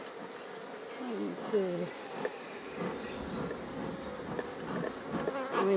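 Honeybees buzzing in an opened hive, a dense close drone with shifting wingbeat tones throughout, a voice speaking briefly beneath.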